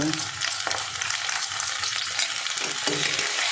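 Ginger-garlic paste fries in a pan with onions already browned, a steady close sizzle with occasional stirring scrapes throughout, no voices over it.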